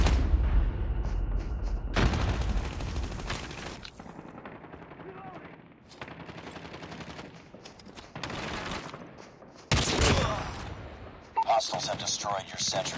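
Bursts of automatic gunfire from a deployed sentry gun and rifles in COD Mobile's Nuketown map, loud clustered volleys separated by quieter gaps, with game voice callouts heard between shots.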